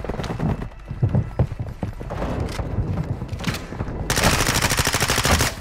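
Gunfire in a Call of Duty zombies lockdown match, with scattered shots early on, then a dense rapid automatic burst in the last second and a half, fairly loud over busy game noise.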